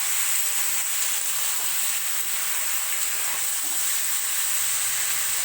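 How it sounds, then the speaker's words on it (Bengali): Chicken pieces frying in oil in a kadai (wok) give a steady, even sizzle and hiss that stays constant throughout, close by and moderately loud, with no talking. "মাংসটাকে আর কি নেড়ে চেড়ে ভালো করে ভেজে নিচ্ছি আমি"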